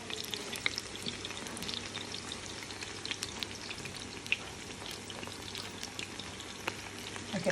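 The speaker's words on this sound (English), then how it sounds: "And we're going to dip this and fry these." Chicken lollipops frying in hot oil, a soft, even crackling sizzle with scattered pops, fairly faint and continuous without any voices.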